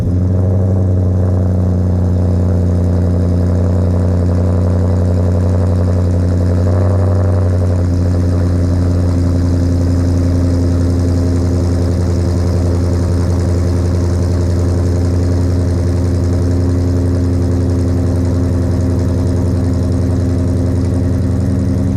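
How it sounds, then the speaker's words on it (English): Supercharged Dodge Charger RT AWD with longtube headers idling on a cold start, a loud steady low engine drone with a deep exhaust rumble that shifts slightly early on, then holds an even idle throughout. "All right, cold start with the headers."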